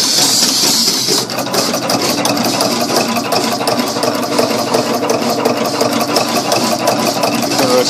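Automatic rhinestone machines with stone-filled hoppers run continuously, giving a loud, steady mechanical hum and rattle with dense rapid ticking throughout.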